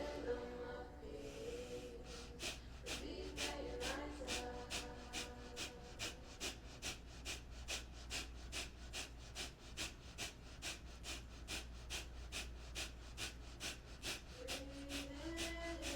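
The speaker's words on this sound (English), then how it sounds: "If you feel good with that breath of fire, keep it going." Breath of fire yoga breathing: rapid, evenly spaced forceful nasal exhalations, roughly two per second, pumping in a steady rhythm for the whole stretch, close and quiet over soft background music.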